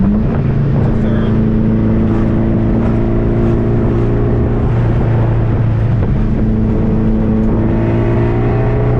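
A modified 1976 Porsche 912E engine holds a steady drone while cruising in third gear after a downshift, loud and close with continuous tonal hum throughout.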